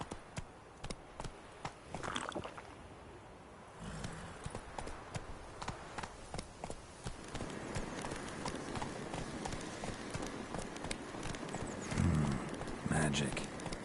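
Roach, Geralt's horse in The Witcher, gallops with steady rhythmic clip-clop hoofbeats that run quickly and evenly, close and fairly loud, while a voice talks over parts of the ride.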